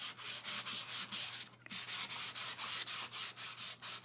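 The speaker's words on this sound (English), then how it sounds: "So like really getting that down, sanding, sanding, sanding." Rhythmic back-and-forth sanding of lacquer on a sample board: quick, close rubbing strokes in a steady pattern with one brief pause partway through.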